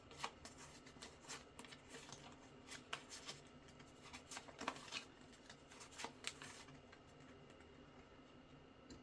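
A deck of curse cards for the Witchcraft! board game is shuffled by hand close to the microphone, a run of quick papery riffles and pattering snaps spread over several seconds with no talking.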